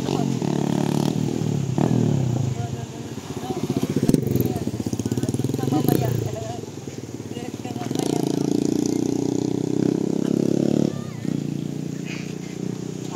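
A small motor tricycle engine rumbles loudly nearby on a boulevard, rising and falling as it passes, with voices talking faintly underneath.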